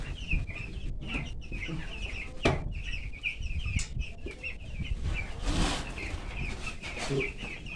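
Young chickens in a brooder, clucking and calling repeatedly at close range, with a few sharper squawks and brief wing flaps as the birds are disturbed.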